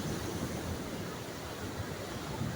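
Waves wash steadily onto a beach, a continuous broadband rush of surf with wind noise across the microphone, with no talk.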